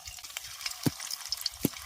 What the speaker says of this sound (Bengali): এবার একইভাবে আরও পকোড়াগুলো আমি তেলের মধ্যে ছেড়ে দিচ্ছি